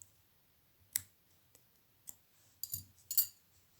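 Small scissors snipping yarn while knitting preemie socks, a few sharp separate clicks and snips spread over a few seconds in a quiet room.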